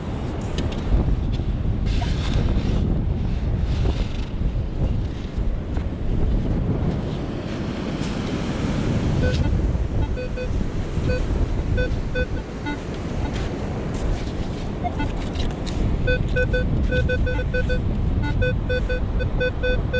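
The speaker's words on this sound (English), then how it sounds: "Ah, the waves." Ocean waves breaking on a New York City beach, surging and washing in repeated swells with heavy wind buffeting the microphone, fairly close and continuous without speech.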